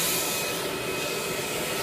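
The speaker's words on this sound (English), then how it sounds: "that's how you manually turn on the vacuum" A constant broadband rushing roar of an engraving machine's vacuum running steadily, with no breaks or voices over the short stretch.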